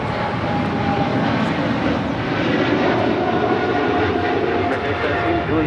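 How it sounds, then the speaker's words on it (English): A heavy airliner's jet engines roar steadily at Los Angeles airport during takeoff, a broad loud rumble heard from a distance with faint radio chatter underneath. "This is American 136 Papa Heavy taking off to London Heathrow"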